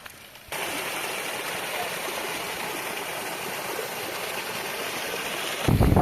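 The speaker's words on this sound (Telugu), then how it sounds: "పై పొలాల నుండి అయితే కిందకి ఇలా మళ్ళిస్తారు వాటరు" Irrigation water pours down from upper rice paddies into lower fields, a steady close rushing and splashing that starts abruptly after a moment of quiet and continues evenly, with a brief louder disturbance at the very end.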